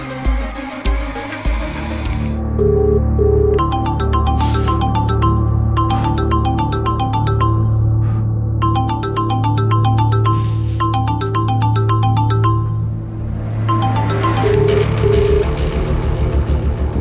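Mobile phone ringtone plays a loud, bright electronic melody in repeating bursts over a low rumbling backdrop, continuous for most of the stretch, with no talk.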